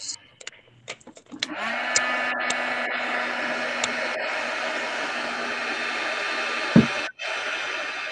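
Handheld heat tool blowing hot air onto a shabby chic fairy mini album, switching on with a click and holding a steady, close whirring hiss for several seconds before cutting off.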